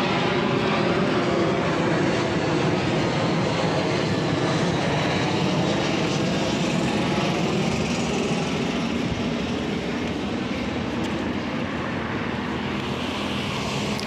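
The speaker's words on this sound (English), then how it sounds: "Another airplane there for Mactan Airport." A fixed-wing airplane flies toward Mactan Airport in Cebu, Philippines, its steady engine roar loud and sustained throughout with no pauses.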